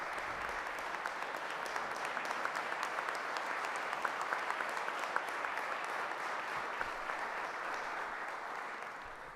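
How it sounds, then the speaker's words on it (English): Sustained applause from an audience at a city council meeting during a mayor's budget address, a dense, even roar of clapping lasting throughout with no talk over it. "Please give them a round of applause."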